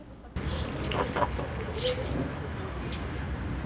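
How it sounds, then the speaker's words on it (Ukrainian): Chickens cluck and murmur nearby in a steady outdoor bed of noise in an apartment-block courtyard in Cherkasy, with a few brief calls standing out early on. "Це так квокчуть кури не в сільському сараї, а у Черкасах"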